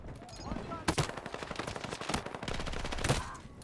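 Rapid automatic gunfire from weapons in a shooter video game, close and loud bursts of rattling shots with sharp louder cracks near the start and end, under quiet talk.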